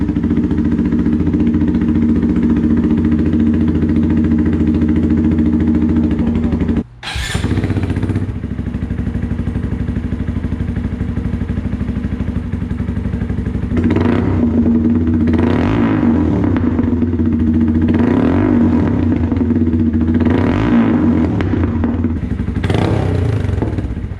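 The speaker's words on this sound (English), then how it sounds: "I'm gonna play the clip from before of the first factory install of what this sounded like starting up, and here it is after the DB killer." A Honda Grom motorcycle fitted with a Toce exhaust and a DB killer rumbles at a loud, close idle, with a sharp clunk and a brief dip as it cuts out and restarts, then several throttle blips that swell and fall.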